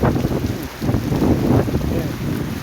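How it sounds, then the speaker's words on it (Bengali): Rain falls in Tongi, Gazipur, as a loud, close, continuous wash of noise, with gusty wind buffeting over it. "এই মুহূর্তে বৃষ্টি হচ্ছে প্রিয় ভাইরা"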